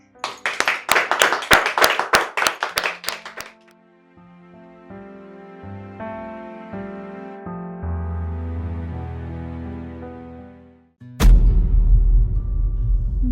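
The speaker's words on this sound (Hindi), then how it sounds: "इनाम दिया जा रहा है तो तालियां तो बनती हैं" A few seconds of crisp hand clapping for an award, sharp regular claps from a small group, followed by a musical sting and a low rumbling swell.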